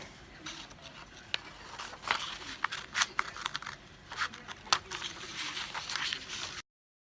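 Scissors snip through muslin fabric to cut out pattern pieces, giving a close run of crisp, irregular cuts over soft rustling cloth.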